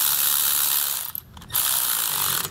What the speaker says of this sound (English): And then we're just gonna snug these bolts up.